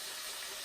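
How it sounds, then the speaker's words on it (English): Whole chicken browning in an Instant Pot, a steady broad sizzle and hiss of hot fat, close and continuous for a brief moment with no voices. "It's sizzling really nicely."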